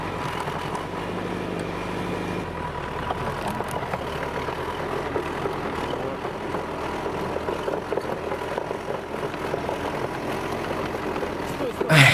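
A DT-75M crawler tractor's heavy engine labors steadily at low revs pulling a frozen haystack, a thick rumbling drone that strains continuously, with a voice faintly audible beneath it.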